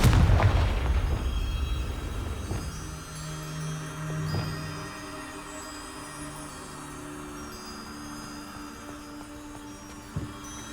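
A Confringo blasting spell explodes in Hogwarts Legacy with one loud, heavy boom up close, then a long, rumbling decay; a smaller thud follows near the end.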